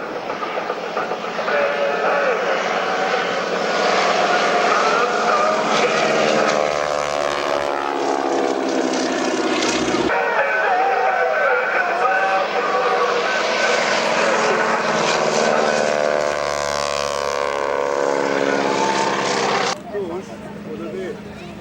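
Propeller aircraft at an air show drone loudly overhead in steady passes, the engine tone swelling and wavering as they fly by, with a commentator talking over the noise.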